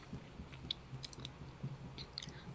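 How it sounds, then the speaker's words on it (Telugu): Someone chews bread beside the stove while cooking a bun omelette, making soft, close, irregular mouth sounds and small crunchy bites at a quiet level with no talk. "నేను పక్క నుంచి బ్రెడ్ తినేస్తున్నా బికాస్ ఇట్స్ టేస్టీ."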